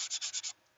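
Bondo filler on a laptop body being sanded with a sanding block, five quick rhythmic rasping strokes, close and crisp, then silence.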